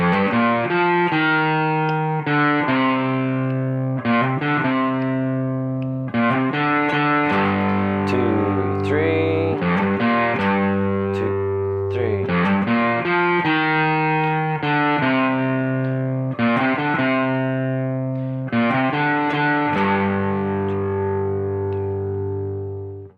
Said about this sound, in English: I'll just click that on so you can see what it sounds like with a little bit of overdrive over the top